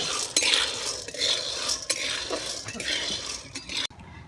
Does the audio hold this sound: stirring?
yes